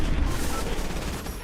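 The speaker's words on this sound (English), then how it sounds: "Some gunfire right here" Dense, continuous rattling gunfire with booming low thuds, loud and close, like a busy game firefight with no pauses.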